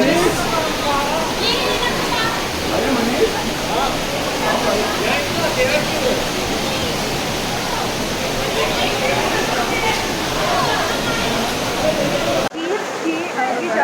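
A waterfall near Dehradun roars as a constant, loud rush of falling water, with people talking over it, before the sound drops away abruptly near the end.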